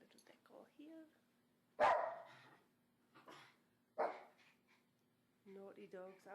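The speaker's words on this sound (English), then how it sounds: "Naughty dogs, I'll just turn the sound down." Dogs bark indoors in a home decorated with a Christmas tree and lights: a few loud, sharp barks spread through the stretch, ending with a burst of higher yips, while a person talks nearby.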